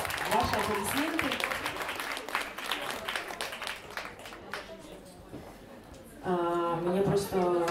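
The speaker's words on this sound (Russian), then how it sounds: "Пожалуйста, ваши аплодисменты." Applause from a concert audience at a performance by a quartet: a dense wash of clapping with a voice over the start, thinning out before a voice returns near the end.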